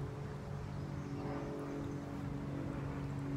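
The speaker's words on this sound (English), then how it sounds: "like the 15th airplane in 15 minutes." A distant airplane drones overhead, its faint, steady engine hum and broadband rush holding evenly with no talk over it.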